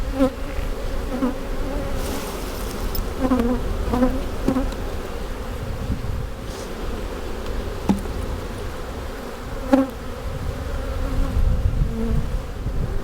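Honeybees buzz around an open beehive while splits are being set up, a dense steady drone close to the hive with individual bees whirring nearer and farther, with no talk.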